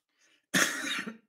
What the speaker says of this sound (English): I'm coughing. That's not good